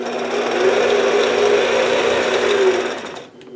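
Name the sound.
sewing machine stitching along a quilting ruler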